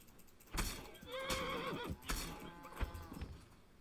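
A horse lets out a clear, wavering whinny lasting about a second, with soft hoof thuds around it and no speech, in Kingdom Come: Deliverance II.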